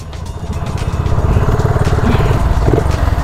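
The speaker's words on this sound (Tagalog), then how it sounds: "Na vibration sa kanya, alive na alive, no, which is good para sa isang mga classic na motorsiklo" A classic fuel-injected motorcycle engine runs steadily at close range, a loud, even low thumping with a vibrating, rattly edge and no one speaking over it.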